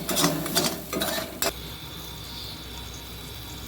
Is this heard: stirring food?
yes